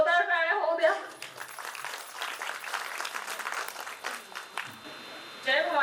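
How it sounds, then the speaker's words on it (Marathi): An audience at a women's organisation's silver jubilee function in Nagpur claps loudly and continuously for several seconds after a speaker's call, with voices heard briefly before and after. "चला जोरदार टाळ्या होऊ द्या"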